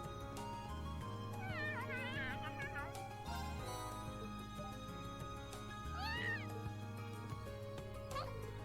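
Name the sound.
cat meowing in the video game Trails of Cold Steel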